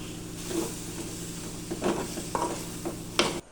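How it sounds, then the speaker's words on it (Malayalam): A spoon stirs curry in a pan after coriander leaves and curry leaves have gone in, making several scraping strokes over a soft, steady sizzle that ends with a sharper scrape. "ഇനി നമുക്ക് നല്ലോണം ഇളക്കി കൊടുക്കാം."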